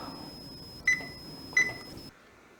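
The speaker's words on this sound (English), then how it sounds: "We'll set the timer for 8 minutes." An oven timer gives two short, sharp electronic beeps, evenly spaced, as it is set to 8 minutes on a home oven used for baking a graphics card. A steady faint whine runs underneath, then everything drops to near silence.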